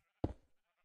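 A sheep in the Minecraft video game gives a single short bleat, sharp at the onset and fading quickly, alone against quiet background.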